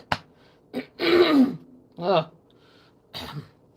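A person clears their throat several times in short, raspy bursts, close by, with brief pauses between each effort.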